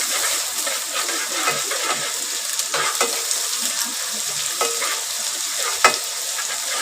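Masala paste roasting in a pan while being stirred, for a Malvani-style crab rassa and chicken vade meal; a steady close sizzle runs throughout with occasional scraping knocks from the spoon, and no voices.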